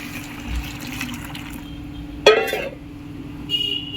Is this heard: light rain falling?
no